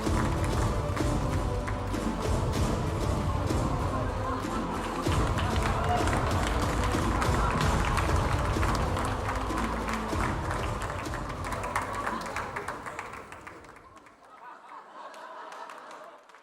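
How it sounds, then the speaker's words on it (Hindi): A studio audience applauds a comedy act with dense, sustained clapping that holds steady, then fades away near the end. "तालियां।"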